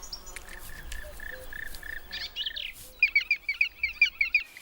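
A black woodpecker family calls from a hollowed nest in Balkan mountain forest: a string of thin, repeated chirping notes, then a rapid, evenly spaced burst of sharp calls close by with no voices.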